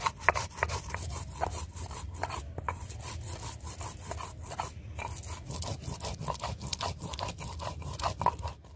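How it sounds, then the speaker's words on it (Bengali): Ginger and cumin being ground together on a village grinding stone, a rhythmic run of rough scraping and rubbing strokes, close up and repeated steadily without pause. "আদা জিরে আমি একসঙ্গে বেটে নিচ্ছি।"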